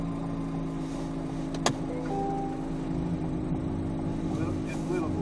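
A C8 Z06 stuck on ice runs its engine in reverse with a low, steady hum and light revving, with one brief click, while people talk nearby.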